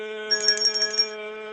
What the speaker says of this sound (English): Channing, thank you so much for ringing the bell 30 miles away.